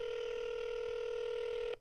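A phone on speakerphone gives off one steady, moderately loud tone that holds for under two seconds and then cuts off abruptly, with faint background noise.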